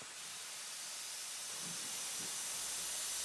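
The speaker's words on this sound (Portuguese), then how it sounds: "E a água fervente se transforma em vapor. Muito e muito vapor." Steam locomotive vents a long, soft, even hiss of steam, a faint breathy wash that grows slightly louder over a few seconds, with a low rumble creeping in near the end.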